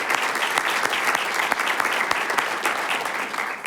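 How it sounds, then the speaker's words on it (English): Applause for the city's magistrates at a city council meeting, dense clapping from a room full of people sounding close and loud, fading slightly toward the end. "Let's give them a round of applause."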